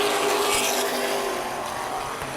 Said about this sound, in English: Back to green flag racing here for 30 laps with the NAPA late models.